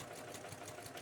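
A sewing machine stitches a child's corduroy backpack, a rapid, even mechanical whirr at low volume running continuously for about a second with no talking.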